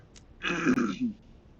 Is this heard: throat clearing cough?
yes